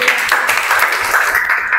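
A classroom gives brief applause for a student, steady clapping from several people across the whole short stretch.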